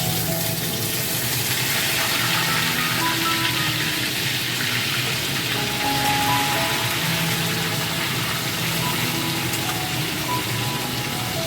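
Marinated chicken sizzles and crackles steadily in hot mustard oil, a dense, even frying hiss that continues loudly throughout with no talk.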